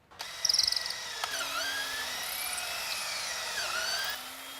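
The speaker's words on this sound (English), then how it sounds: "The 3 mounting holes will be drilled with the 3/16 drill bit." A power drill fitted with a 3/16 bit bores mounting holes for Lenco trim tabs on a boat transom, starting with a short burst and then settling into a steady high whine whose pitch dips as the bit bites.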